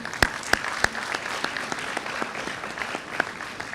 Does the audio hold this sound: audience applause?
yes